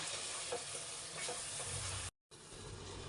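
Tamarind pulp and masala for brinjal gojju frying in a pan, a steady close sizzle with a few soft stirring scrapes, briefly cutting to silence near the end before the hiss resumes.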